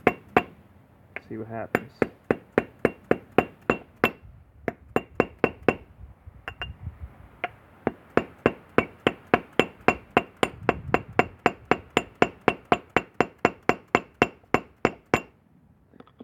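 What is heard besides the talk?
chiseling hardened polyester resin to free a Mario figure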